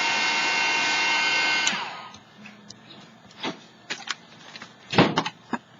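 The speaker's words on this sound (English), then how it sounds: "I'm just trying to dry up a little bit here." A hair dryer or heat tool blows steadily for about two seconds over gold and melted wax on an altered children's book, then cuts off, followed by scattered close handling clicks and taps.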